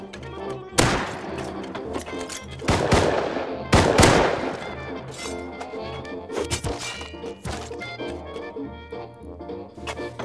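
Gunfire in the survival video game Rust: several loud sharp shots in an irregular burst, the heaviest around the middle, over a steady game soundscape with no talk.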